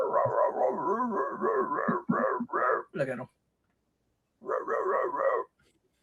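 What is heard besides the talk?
dog barking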